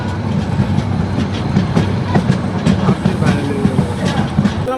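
An express train pulls into Cox's Bazar railway station with a steady, rhythmic clickety-clack of wheels over rail joints, close and moderately loud throughout.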